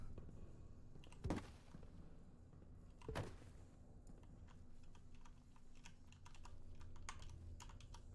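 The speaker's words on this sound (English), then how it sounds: "You can hear me just tapping the keys as I try to like find the spot." Faint, scattered taps on computer keyboard keys come in an irregular rhythm over quiet room noise, with two slightly heavier thunks among them.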